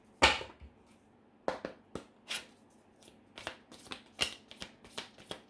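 Tarot cards are shuffled close up, a series of sharp papery riffles and snaps coming in irregular bursts, quiet between strokes, with no talk.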